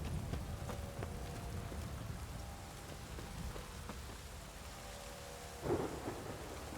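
Steady rain with rolling thunder in The Witcher 3: Wild Hunt, a continuous wash of rainfall throughout with a louder thunder crack near the end and no talking.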